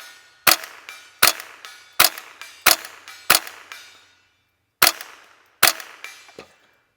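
A homemade .22LR bazooka fires seven sharp, loud shots in an uneven series outdoors, each a hard crack with a short decay and a longer gap before the last two.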